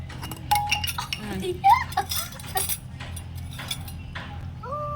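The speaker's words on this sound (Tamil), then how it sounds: "நல்லா கீழேருந்து கிளறி விட" A utensil stirs food in a tiny miniature cooking pot, producing light metallic clinks and scrapes while voices chat nearby.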